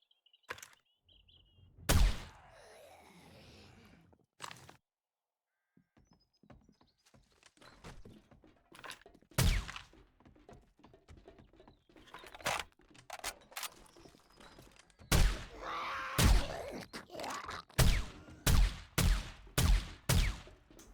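Gunshots in the survival video game 7 Days to Die, sharp isolated reports spaced apart early, then a quicker run of shots near the end, over a quiet background.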